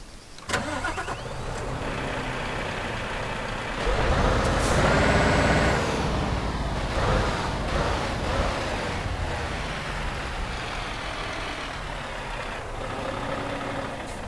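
A heavy Scania truck engine in a video game cranks and rumbles to life, idles loudly for several seconds with a hiss of air, then settles down and idles on.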